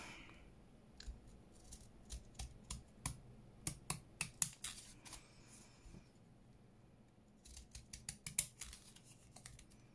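Sharp, crisp snips in quick bursts, close by, pausing between short runs of cuts in an otherwise quiet room.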